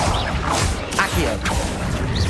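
Summoning magic in Hogwarts Legacy: a rushing, whooshing pull with mechanical clanks and creaks, dense and loud throughout a short burst.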